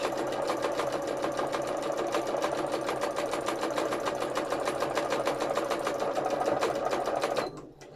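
A sewing machine stitches free motion embroidery on hand painted fabric, its needle hammering in a fast, steady rhythm at close range for most of the span before stopping abruptly near the end.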